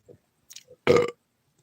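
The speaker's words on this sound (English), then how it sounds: "There's a burp" A single short burp, close and fairly loud, comes after a few faint small noises.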